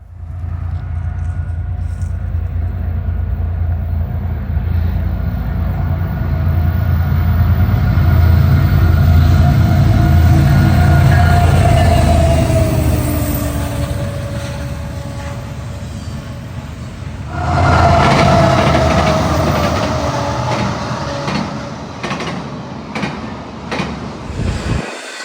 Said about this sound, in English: 265 with BNSF GEVO leading and executive painted SD70 Mac trailing second